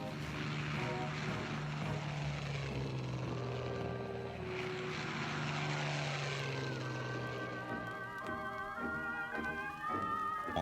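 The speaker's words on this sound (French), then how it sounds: "Les avions de reconnaissance allemands repèrent un adversaire qui n'en est pas un." Propeller engines of German reconnaissance aircraft on the eve of D-Day in Normandy, 1944, a steady droning hum with shifting pitch that stays loud throughout, with faint music-like tones toward the end.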